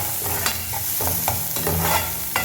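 Vegetable filling for veg puffs sautéing in a pan: a loud, close sizzle with repeated spatula scrapes and stirring knocks in an uneven rhythm.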